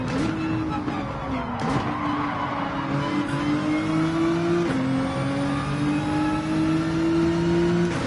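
A Lamborghini race car in Gran Turismo 7, racing at Brands Hatch, drones steadily and loudly up through the gears with rising engine tones, brief shift dips and faint tire noise.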